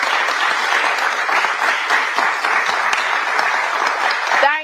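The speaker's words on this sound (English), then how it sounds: "Audience, you can clap now." A studio audience at a televised national debate applauds steadily, a dense, even wash of clapping that carries on throughout before ending abruptly as a voice begins.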